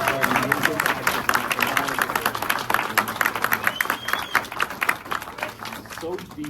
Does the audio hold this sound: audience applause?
yes